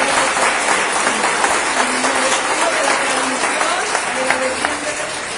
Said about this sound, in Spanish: pues le damos un aplauso al Rey de Reyes.